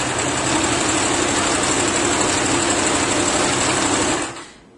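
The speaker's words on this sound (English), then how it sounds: "press your foot pedal and watch your machine pull your cloth" A sewing machine stitching at a steady run while the foot pedal is held down, giving a loud, continuous mechanical whir that stops abruptly near the end, close to the listener.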